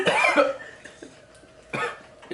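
A person at a seafood eating meal coughs after food goes down the wrong pipe. Two sharp, close coughing bursts come at the start and again near the end, with quieter breathy sounds between them.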